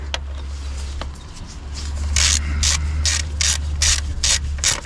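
Ratchet fitted with a 13 mm socket loosening the battery bracket bolt on a Renault Clio 4, giving a run of rapid, evenly spaced clicks, close and clear over a steady low hum.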